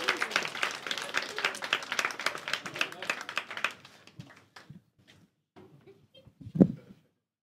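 Comedy club audience clapping in a quick, lively burst for a comedian coming on stage, tapering off after a few seconds into scattered claps, shuffling and a sharp knock near the end.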